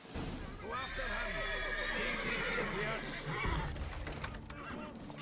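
Roach, Geralt's horse in The Witcher 3, lets out a loud drawn-out whinny over a steady rumble of galloping hooves, with a brief thud near the end.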